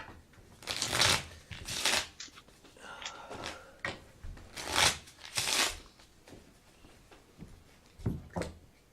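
A deck of Ticket to Ride cards is riffle-shuffled in repeated crisp bursts during a board game session, close and clear, with brief pauses and faint voices in between.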